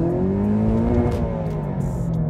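A 2016 Toyota GT86 coupe on an exit road off a toll highway, its engine droning steadily with a rising and falling rev tone, close and fairly loud, with no talking.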